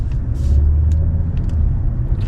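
A Kia K5 engine revs up toward 5000 RPM with a steady, loud low rumble from inside the car, with a few faint clicks over it.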